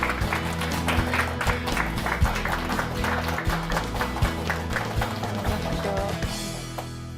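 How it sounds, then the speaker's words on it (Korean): A studio audience at a televised lecture applauds a professor's arrival: a sustained patter of clapping over steady background music, moderately loud and continuous. "큰 박수 부탁드립니다."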